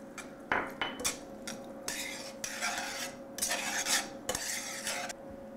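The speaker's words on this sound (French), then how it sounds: "On mélange comme il faut." Spoon stirring a thyme, oregano and mustard mixture in a pan, with repeated scraping and clinking strokes in an uneven rhythm, close and fairly quiet, no talking.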